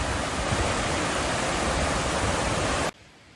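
Water rushes through the dam at Stormy Lake in Restoule Provincial Park, a loud, steady broadband roar close by that cuts off abruptly near the end.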